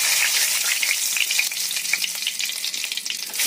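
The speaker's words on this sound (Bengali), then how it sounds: "এবার দিয়ে দেবো একটুখানি জিরে" Cumin seeds sizzling in hot oil in a pan, prepared for a Bengali-style mutton dish; a steady, loud, close crackling hiss runs without a break for the whole stretch, with no talking.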